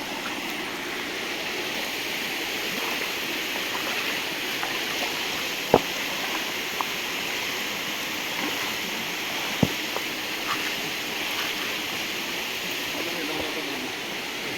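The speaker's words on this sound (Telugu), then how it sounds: "అక్కడ నుంచి మనకు వాటర్ చిన్న ఫ్లో కనిపిస్తుంది" Stream water flows steadily near a waterfall outside Warangal, a constant broadband rush heard at moderate distance, with a couple of faint clicks and knocks over the flow.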